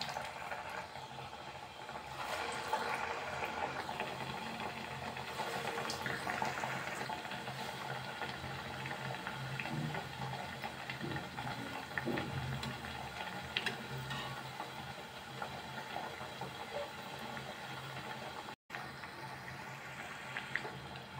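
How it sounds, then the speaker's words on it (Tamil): Green moong dal vada frying in medium-hot oil, giving a steady close bubbling sizzle that holds at an even level throughout with no one talking. "எண்ணெய் மீடியமாக சூடாக இருக்குது. ஒன்று உள்ளே சேர்த்துடலாம்."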